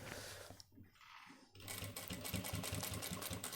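A sewing machine stitches a shirt sleeve and cuff: a short burst, a brief pause, then a fast steady run of needle clatter, close and clear.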